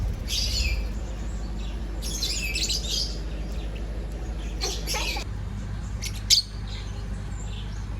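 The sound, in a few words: birds calling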